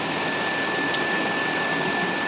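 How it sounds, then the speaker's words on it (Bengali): Heavy rain falling outdoors, a steady, dense broadband hiss that holds evenly throughout with no pauses or speech. "আজকে বাইরে ভীষণ ধারা বৃষ্টি হচ্ছে"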